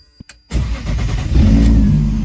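Turbocharged BMW M50 engine in an E30 cranking briefly, then catching and settling into a loud, steady rumble close by.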